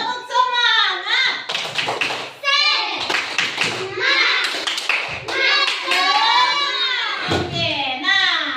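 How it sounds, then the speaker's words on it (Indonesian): Children in an elementary school classroom do a rhythmic spirit clap, with quick hand claps mixed with loud group chanting voices throughout. "kita tepuk semangat dulu biar semangat anak ibu ya."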